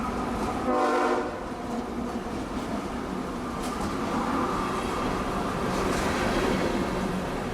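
A long coal train rolls steadily past on a siding, a continuous loud rumble of rail cars with a brief horn sounding near the start, no talk.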